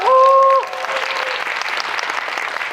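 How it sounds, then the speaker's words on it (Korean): A film screening audience at a Korean movie's guest visit event breaks into steady applause that fills the room, following a short held tone at the start. "다시 한번 박수 부탁드립니다."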